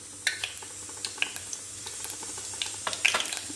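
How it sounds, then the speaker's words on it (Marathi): Mustard seeds splutter in hot oil in a pan for a Marathi-style tempering, with scattered small pops and crackles over a steady low hiss, fairly faint and with no talking. "आपली मोहरी फुटलेली आहे छान प्रकारे"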